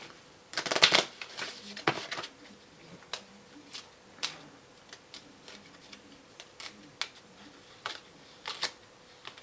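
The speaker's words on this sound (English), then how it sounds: "And I'm going to do a quick shuffle on this one." A deck of game cards being shuffled in a quick riffle, a dense burst of crisp flutter near the start followed by scattered soft taps and clicks as the cards are squared and handled, close up with no talking.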